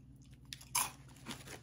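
An airy, light, hollow crispy potato snack is bitten, with one sharp close crunch followed by a few softer chewing crunches in a quiet room.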